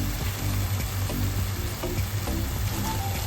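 Masala with tomato puree and cashew paste is stirred in a pan for a spicy green peas curry, a dense close bubbling sizzle with spoon scrapes at a steady pace, no speech.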